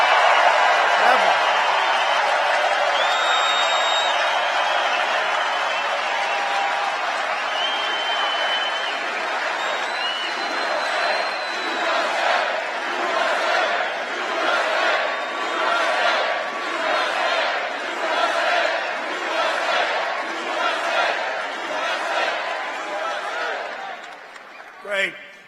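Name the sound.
rally crowd cheering for Trump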